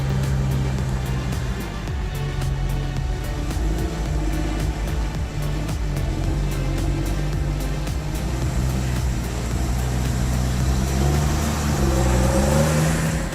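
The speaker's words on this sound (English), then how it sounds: "The HSM 904F harvester, with a power output of 200 to 250 horsepower and impressive dual grip heads." The diesel engine of an HSM 904F forestry harvester, rated at 200 to 250 horsepower, runs with a loud continuous low rumble and a steady mechanical drone, rising slightly in pitch near the end.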